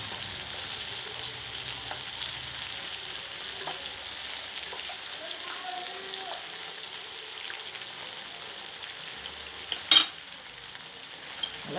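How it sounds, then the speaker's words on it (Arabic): Alexandrian sausage sautéing with garlic in a small pan over a spirit stove gives a steady, close frying hiss, broken by a few soft stirring scrapes and a sharp clink near the end. "شوحي الاول الصدق كده مع الثوم كده، شوح كده مع الثوم الاول"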